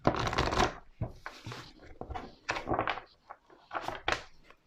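Oracle cards are drawn and handled in several separate bursts of close shuffling, sliding and flicking. Short pauses fall between the bursts.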